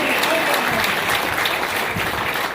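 Audience at a motivational speech event clapping loudly and continuously, a dense even wash of applause with no talking over it.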